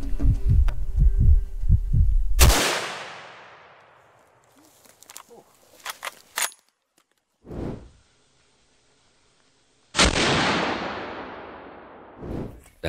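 A rifle fires at a duiker during an African hunt, one sharp loud crack with a decaying tail, followed by scattered quieter knocks, a second softer report and a final burst of noise.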